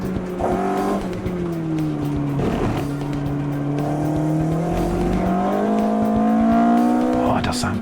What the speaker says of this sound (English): it does sound good, that 16-valve engine